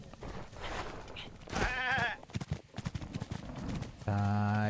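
A goat bleats in Zelda Breath of the Wild, wavering cries mixed with hoof clip-clops and other game sounds, then a loud sustained tone, with someone talking over parts of it.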